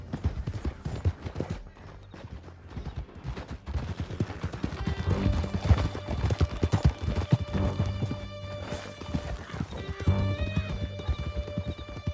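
Horses gallop at full speed in Red Dead Redemption II, a steady rapid clip-clop of hooves with an occasional whinny, loud and close over dense game music and scattered distant gunfire.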